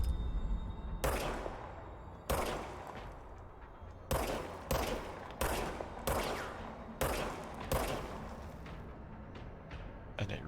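Repeated gunshots from the service weapon in the Control video game, heard as a series of loud, sharp blasts with reverberant tails, spaced roughly a second apart with some close pairs, no talking over them.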